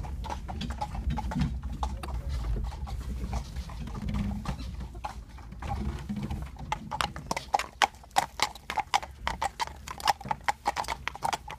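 A horse pulls a carriage at the National Trust's Barrington Hall, its hooves clip-clopping on the road in a steady rhythm that grows sharper and closer in the second half, with faint outdoor ambience and no talking.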